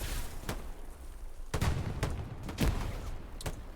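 Gunfire in Hell Let Loose on the Utah Beach map: a steady rattle of distant shots with several loud, sharp reports spaced about half a second to a second apart, no talking.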